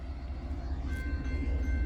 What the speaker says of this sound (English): Then we got a train coming this way, down there.